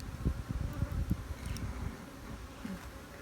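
A swarm of honey bees mills around a hive being split, a dense close buzzing with individual bees droning past the microphone, loudest early and easing slightly toward the end.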